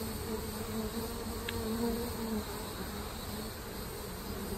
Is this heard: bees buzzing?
yes